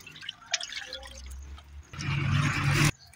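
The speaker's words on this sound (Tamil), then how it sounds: "சட்டி சூடான உடனே எண்ணெய் ஊற்றிக்க போகிறோம்" Cooking oil is poured into a hot pan for mutton kurma, heard as a brief liquid splash and gurgle that grows louder for about a second before stopping abruptly.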